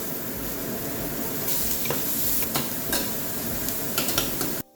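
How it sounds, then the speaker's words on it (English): Onions fry in a hot pan for an Indian sabji, a bright steady sizzle with scraping spoon strokes and soft clinks as they are stirred, close and continuous until it cuts off near the end. "And add in our onions for the sabji."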